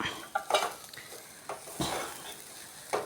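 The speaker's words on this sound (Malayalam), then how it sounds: "നമുക്ക് തോരനൊന്ന് നല്ലതുപോലെ ഒന്ന് ചിക്കിയെടുക്കാം" A spatula stirs beetroot thoran with grated coconut in a pan. There are soft scraping strokes and light clinks against the metal, set irregularly over a faint sizzle, close and quiet, with no talking.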